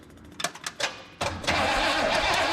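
The 455 engine of an old Oldsmobile Vista Cruiser station wagon cranks in a few short bursts, then briefly catches and roars before faltering. The failed start is loud and close, with no talk.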